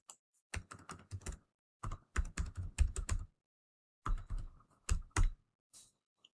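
Clattery bursts of keystrokes on a computer keyboard as a command is entered to start a Redis server on Windows 11, close and fairly loud, arriving in quick irregular runs separated by short pauses.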